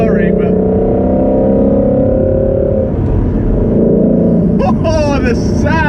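A Ford Shelby GT350 engine heard from inside the car while driving: a loud, steady, throaty drone that shifts in pitch and rises sharply near the end.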